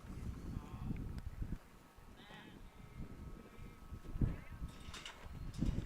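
Sheep bleat faintly during a novice sheepdog trial finals, a few thin calls spread over a low outdoor rumble with soft background talk.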